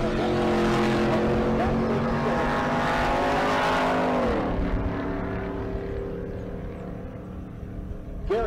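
Mustang making a drag racing pass at Bandimere during race week, engine roaring loudly at first, then winding down and fading as the car moves off.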